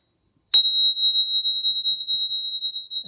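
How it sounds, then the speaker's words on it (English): A small bell struck once rings out with a clear, sustained tone that lingers for several seconds, alone with no talking. "I'm going to click my other bells as well."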